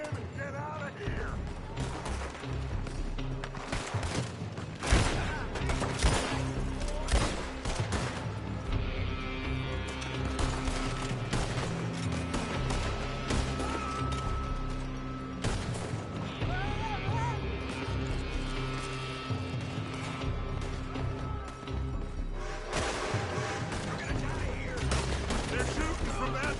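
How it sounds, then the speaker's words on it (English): Gunfire in the Red Dead Redemption 2 video game: a steady shootout of repeated shots and ricocheting cracks over background music, fairly close, with voices talking under the shooting. "They're shooting from that building."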